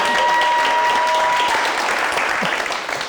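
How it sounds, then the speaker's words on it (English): A live audience claps steadily and densely for several seconds, the sound thinning slightly toward the end, with a faint tonal whine in the background. "If you want to clap, clap."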